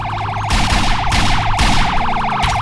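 A loud wailing police siren in the game DarkRP cycles rapidly and steadily, with a low engine-like drone underneath and no talking.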